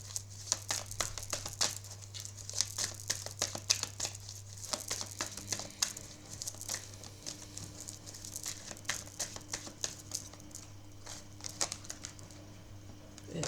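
Tarot cards are shuffled and laid out, producing many quick, crisp flicks, slides and papery snaps close by, irregular in rhythm, over a faint steady low hum.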